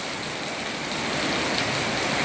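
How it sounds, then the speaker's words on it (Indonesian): Steady rain falls in an August shower in Indonesia, a dense, even hiss of drops hitting surfaces close by, continuous and moderately loud with no voices. "ini kali ini hujan di bulan Agustus"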